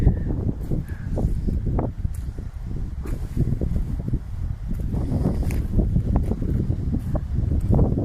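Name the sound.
wind blowing on the coast of Arran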